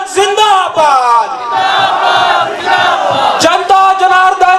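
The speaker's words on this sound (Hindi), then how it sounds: "कांग्रेस का नारा लगना चाहिए" A rally crowd chants Congress party slogans at a campaign event for candidate Neeraj Nayyar in Himachal; many voices roar rhythmic, drawn-out shouts in loud unison, close and overlapping, with sharp bursts between phrases.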